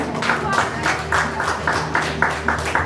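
An audience at a life insurance program event claps together in a steady rhythmic beat, moderately loud and sustained throughout.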